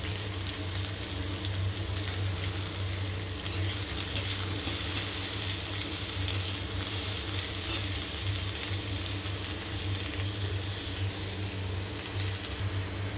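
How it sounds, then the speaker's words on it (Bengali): Chopped onion frying in oil in a wok over dried red chillies and nigella seeds, a constant even sizzle with a low hum beneath it, steady and unbroken throughout with no talking. "এখানে দিয়ে দিলাম পেঁয়াজ কুচনো। পেঁয়াজটা খুব ভালো করে ভেজে নেব।"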